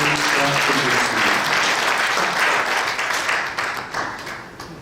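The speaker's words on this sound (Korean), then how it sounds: "여러분 격려 인사드릴 때 큰 격려 박수 부탁드리겠습니다" An audience at a church general assembly and presbytery officers' celebration bursts into loud, sustained applause that fills the room and then starts to thin out near the end.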